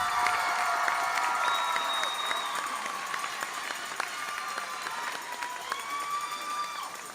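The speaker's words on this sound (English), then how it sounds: "Let's give these graduates another round of applause." Audience clapping and cheering for graduates at a high school commencement ceremony, a broad steady wash of applause heard at a moderate distance, with scattered shouts and whistles rising above it.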